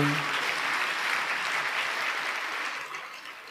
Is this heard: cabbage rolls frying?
no